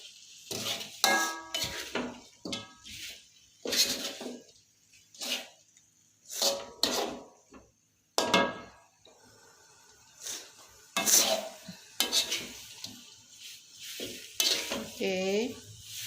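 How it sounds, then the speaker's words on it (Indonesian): Ayam rica rica ketumbar, chicken with spices and tamarind, is stirred in a pan: a series of distinct, close scraping and sizzling strokes in irregular bursts, separated by short near-quiet gaps. "lalu kita aduk-aduk sebentar"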